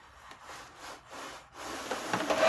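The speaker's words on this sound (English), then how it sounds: "So we got our scraper here, and we're going to pull this paint." A scraper is pulled through gloss enamel paint across a painting, making soft rasping drags in a few uneven strokes that build into a longer, louder smear at the end, close and quiet with no voices.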